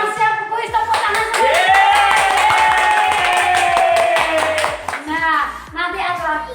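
Children at a church kids' service clap their hands in a quick burst, mixed with a child singing or calling out a sustained cheerful tone over the claps.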